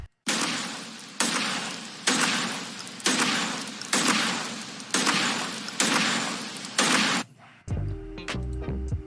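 Crackling fire effect looping in a game audio project, a dense bright roar that restarts in even bursts about once a second, loud and close, then breaking off into a low hum.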